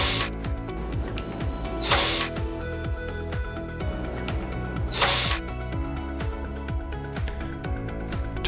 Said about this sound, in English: To fasten the controller, simply screw down the 3 screws on the controller.